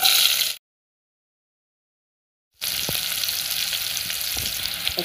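Onion, mustard seeds and a tablespoon of oil sizzling in a pan, a loud hissing fry that cuts off to near silence for two seconds, then resumes with faint stirring clicks.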